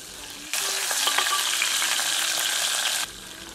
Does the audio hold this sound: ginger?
yes